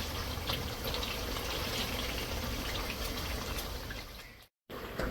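A cooking pot of salted water comes to a boil for rice, giving a steady, close bubbling and hissing that breaks briefly near the end.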